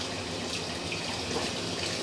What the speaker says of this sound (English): We're running some water to ensure that our pipe is watertight